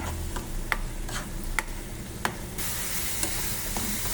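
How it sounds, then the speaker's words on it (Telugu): Onion paste and slit green chillies sizzle in a pan for a prawn cashew curry, broad steady frying hiss broken by several sharp spoon taps and scrapes as the mixture is stirred, close and fairly quiet with no talking. "ఉల్లిపాయ పేస్ట్ని పొడుగ్గా చిల్చుకున్న పచ్చిమిరకలు వేయాలి వేసుకుని తిప్పుకోవాలి బాగా బ్రౌన్ కలర్లో వేగేంత వరకు"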